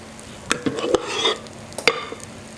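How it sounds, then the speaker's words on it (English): Cupcake batter hits the hot plates of a preheated George Foreman Evolve cupcake maker, giving short sizzles along with clinks and scrapes of utensils and pans, close by and fairly quiet. "You can hear it sizzle when it goes in, so I know it's very hot and preheated."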